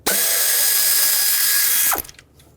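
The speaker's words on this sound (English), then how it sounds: "let's remove this bolt that holds this solenoid on" Ratchet spinning rapidly while backing out a bolt that holds a solenoid on a 3.5L V6 engine of a 2013-2020 Nissan Pathfinder, one loud continuous whirring burst of about two seconds, then a few faint clinks.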